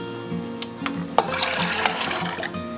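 Water splashes and gurgles steadily as it is poured into a cooking pot for bean soup, close and fairly loud, with a few light knocks at the start and no talking.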